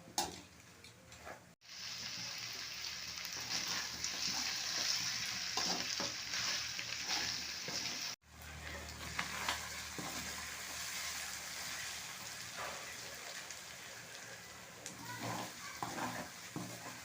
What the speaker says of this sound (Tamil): அடுத்தது நம்ம பெரிய வெங்காயத்தை சேர்த்து நல்லா கலந்து விட்டுறலாம்